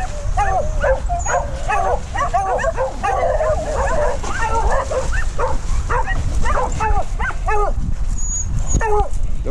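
Several dogs at a kennel bark and yip in quick, irregular bursts mixed with whimpers, close and loud, continuing throughout with no clear pauses.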